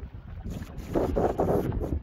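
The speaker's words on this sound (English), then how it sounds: "Nothing but waves and wind. Not a nice wind either. The noisy wind." Strong wind buffets the microphone in loud, rumbling gusts, with the rush and wash of waves beneath at a reservoir, swelling louder in the second half.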